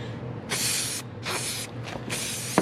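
Three quick bursts of a cleaner spray bottle misting a Can-Am Ryker motorcycle, each hiss about half a second long and close up, with a fainter short spurt between the last two.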